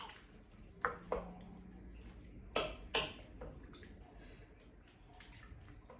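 Pozole is stirred in a crock pot, with a few faint clinks and knocks of a spoon against the pot. Two close pairs of taps stand out over quiet background noise.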